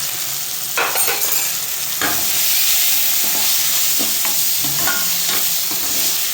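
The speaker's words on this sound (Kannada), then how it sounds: "ಚೆನ್ನಾಗಿ ಫ್ರೈ ಮಾಡ್ಕೋಬೇಕು ಇದನ್ನು" Pasta fries in a pan with chaat masala and roasted cumin powder, a steady loud sizzle broken by periodic scraping stirs, close up and without any voice.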